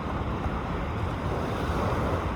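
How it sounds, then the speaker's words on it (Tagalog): Calm sea waves near a sandbar, with the swell breaking on rocks farther out, make a steady, dense wash of surf mixed with wind buffeting the microphone, with no talk. "Mas kalmado na yung tubig dito, yung alon."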